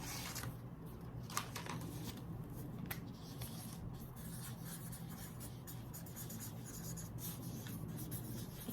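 A pen scratches steadily on paper, a soft continuous close-up rustle with faint strokes and no speech.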